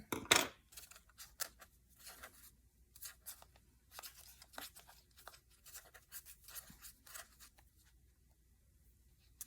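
Scissors snip through paper for a handmade journal signature, a loud opening cut followed by a run of quick, crisp snips and rustles close by, with no talking.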